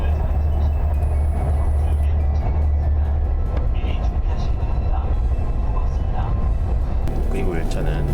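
Steady low rumble and rushing hum inside a KTX high-speed train travelling at about 260 km/h, continuous throughout, with a voice talking over the noise.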